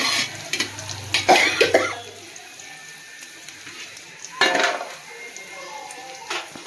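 A spoon stirs rice into mutton biryani in a pot, making clanking, scraping bursts near the start and again midway, with quieter gaps between.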